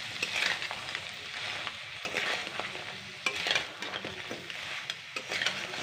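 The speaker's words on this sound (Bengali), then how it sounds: "সমস্ত মশলার সঙ্গে কাঁকড়াটাকে আর কিছু সময় ভালো করে আমি কষিয়ে নেব" Crab pieces fry in a pan with spices and cubed tomato over a medium gas flame. A spoon scrapes and stirs it in regular strokes above a continuous low sizzle, with no voices.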